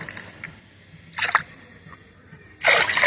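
Liquid organic garden fertilizer poured, half a measure, into four to five litres of water and mixed, giving two short bursts of splashing and sloshing with quiet drips between.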